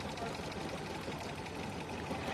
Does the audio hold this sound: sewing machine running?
yes